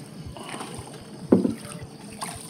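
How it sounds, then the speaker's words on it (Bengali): A rowboat returns along the Behula river at dusk after a picnic, with soft water lapping and a sharp knock of wood or paddle midway over quiet ambient noise. "এই যে নৌকা করে ফিরছে"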